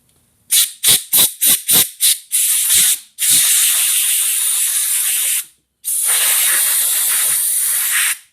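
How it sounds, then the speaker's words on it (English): Compressed air blasts off a motorcycle carburetor part from a Kawasaki Vulcan 800, first as six short rapid bursts, then as longer sustained hissing sprays with a brief gap between them, loud and close with no talk. "So I'll go ahead and spray this off with some compressed air."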